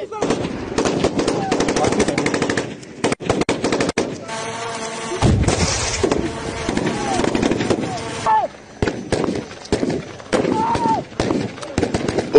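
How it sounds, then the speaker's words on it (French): Machine gun fire at a military firing demonstration by Congolese FARDC troops in Ituri, with loud rapid bursts and sharp volleys continuing for several seconds, mixed with voices. "aux manœuvres et démonstrations de tir dans le théâtre des opérations"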